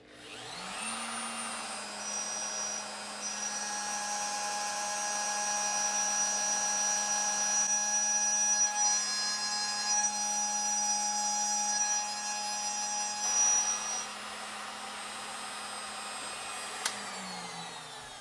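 A manual lathe cuts a 0.5 mm pitch thread with the lead screw engaged, giving a steady whining motor hum with high tonal whine throughout, rising at the start and winding down at the end, with no talk.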